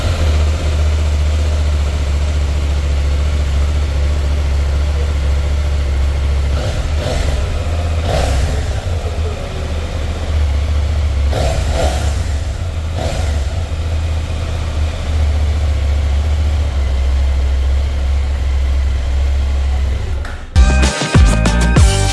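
KTM 890 Duke R motorcycle engine idling close by, a steady deep rumbling thrum with a few brief throttle blips partway through, then a short burst of handling noise at the end.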